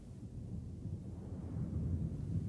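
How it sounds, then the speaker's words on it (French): Low, steady thunder rumble from a storm drawing near, a continuous deep roll that swells slightly toward the end, with no voices over it. "Je crois qu'on va avoir un bel orage."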